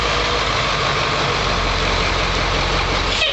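A converted school bus, built as a space shuttle replica, idles with a steady, close engine rumble that holds even throughout with no voices.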